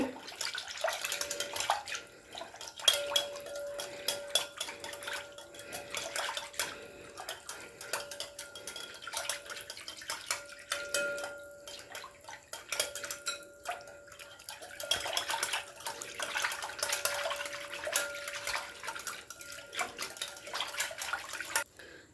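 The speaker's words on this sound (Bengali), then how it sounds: "তো এবারে দুধ আর ঘিটাকে খুব ভালোভাবে মিক্স করে নেব।" Milk and ghee are whisked together in a bowl, making a continuous, fairly quiet stream of quick metallic clinks and wet swishing that keeps up for over twenty seconds, nearby and without any voices.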